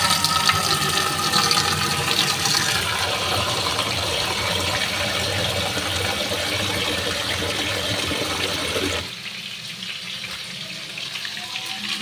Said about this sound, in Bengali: এবার আমি একটু ভাতে জল দিয়ে দিচ্ছি।